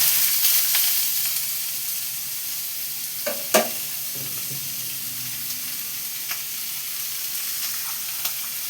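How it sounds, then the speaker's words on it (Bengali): Pieces of young jackfruit fry in hot oil with a continuous hissing sizzle, broken by a couple of brief utensil clicks and light stirring sounds. "তেল গরম হয়ে গেছে, এবার আমি এতে এই যে এঁচোড়টা দিয়ে দিচ্ছি। একটু লাল লাল করে ভেজে নেব।"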